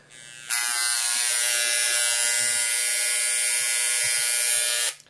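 A steady high-pitched electric buzz from a Burgess engraver on its lowest power starts abruptly, holds evenly for several seconds, then cuts off, like a small motorized tool running close by.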